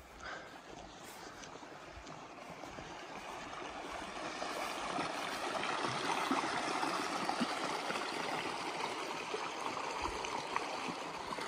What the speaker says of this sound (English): So I'm just coming up on the river now, and I'm going to check it out